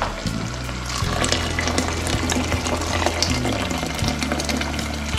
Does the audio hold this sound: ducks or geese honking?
no